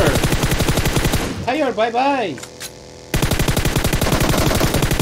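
Rapid automatic gunfire from PUBG Mobile rattles in dense bursts, breaking off briefly while a player speaks over it, then resuming at full loudness.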